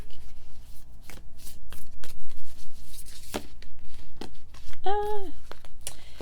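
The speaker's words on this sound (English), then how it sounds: "This deck doesn't shuffle very well." A deck of reading cards is shuffled by hand, giving repeated close papery riffles and snaps over several seconds, with a brief tonal chirp partway through.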